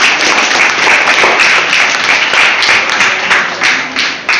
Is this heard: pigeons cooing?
no